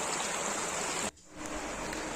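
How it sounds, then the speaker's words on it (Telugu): A forest stream beside a highway spills down from a hill, giving a steady, loud rushing roar. It drops out sharply for a moment midway and then returns. "ఆ వాటర్ మొత్తం అంతా అంటే వెనుక నుండి ఆ ఫారెస్ట్ నుండే వస్తున్నట్టున్నాయి"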